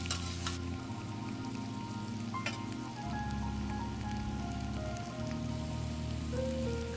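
Bell pepper and potato slices stir-fried with soy sauce sizzle and crackle steadily in a hot pan, a close, continuous frying hiss with a low hum behind it and no talk.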